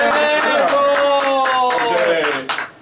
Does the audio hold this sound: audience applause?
yes